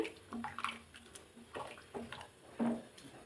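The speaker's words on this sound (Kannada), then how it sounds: "ಹದವಾಗಿ ನೋಡಿ ಹಾಕ್ಕೊಳ್ಳಿ, ನೀರು ಎಷ್ಟು ಬೇಕು ನೋಡಿ." Water splashes and gurgles in short bursts, like pouring into a pot, with quiet clinks between pours.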